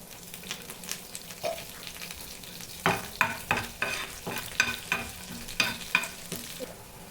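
Mustard seeds, cumin and onions sizzle in hot oil in a pan for a home-cooked chicken curry, with a steady fry broken by repeated stirring scrapes in the second half.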